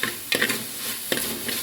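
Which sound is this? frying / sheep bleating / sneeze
frying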